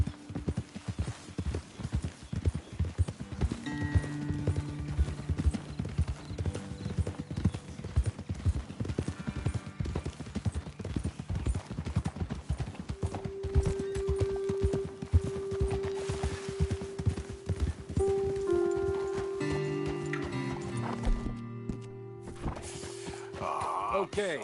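Horses walk along a trail in the Red Dead Redemption 2 video game, hooves clip-clopping in a steady uneven rhythm, close and continuous, with a low musical drone and game sounds building behind them.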